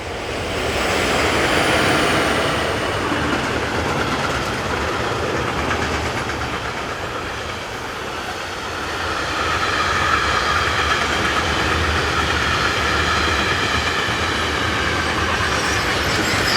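A Swiss Class 620 locomotive hauls a train past on the main line near Olten, a loud sustained rumble and wheel roar that swells, dips slightly and builds again, with faint squealing.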